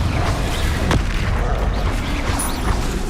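Confringo explosive spell cast in the video game Hogwarts Legacy, a single sharp booming impact early on, followed by rumbling, crackling game ambience that stays loud throughout.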